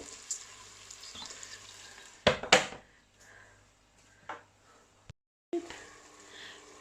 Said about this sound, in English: we're literally just sauteing them for a little bit anyway